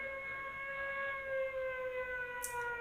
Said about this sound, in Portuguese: Eu vou colocar um barulho de sirene aqui, se eu achar.